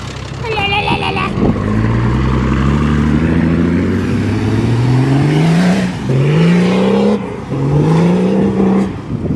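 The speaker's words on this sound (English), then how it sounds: "Shall I move my car back?" A car engine revs hard several times in a row close by, each rise in pitch climbing and then cutting off, as the car is moved across a rain-soaked paddock.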